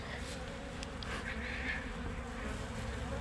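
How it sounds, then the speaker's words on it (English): A steady, dense buzzing of many bees from a ball of bees on the ground close by, continuous and fairly loud with no talking. "when you find a pile of bees on the ground,"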